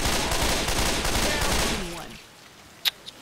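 Rapid automatic gunfire in Left 4 Dead 2 rattles loud and continuous for about two seconds, then cuts off, leaving quiet with a couple of short sharp clicks at the end.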